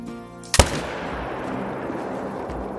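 A single sharp, loud shot from a .300 AR rifle in the hunting game Call of the Wild, cracking once with a brief echo, followed by a quiet outdoor ambience with a faint low hum.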